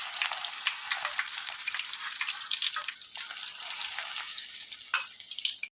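Crushed garlic fries in hot oil for avalakki mixture, giving a constant close hissing sizzle with faint crackles, steady from start to end.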